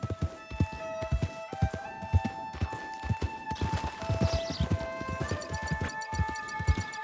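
Horse hooves clip-clop along a dirt road in the video game Red Dead Redemption, with a steady rhythmic trot close up under tonal game music, plus an occasional faint snort.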